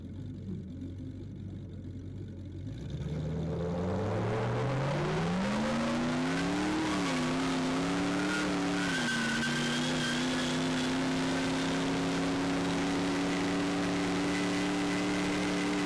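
A freshly tuned race car engine idles low, then revs up and climbs steadily in pitch into a loud, sustained drone as it accelerates away.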